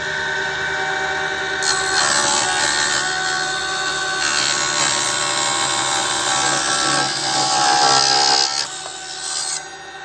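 A multi-functional table saw cuts through thick solid-wall aluminium about 10 mm high, giving a loud, steady, harsh grinding whine that holds for several seconds before easing off near the end.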